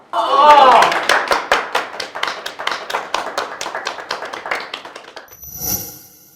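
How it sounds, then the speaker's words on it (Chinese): A brief voice, then a steady round of sharp, close clapping, about twenty claps in an even rhythm, ending with a short bright tone. "鼓掌啊！"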